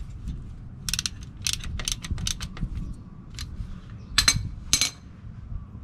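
Quick bursts of ratchet clicking as a speed sensor bolt is tightened on a 2002 Toyota 4Runner, several short runs of close, crisp metallic ticks over a low background hum.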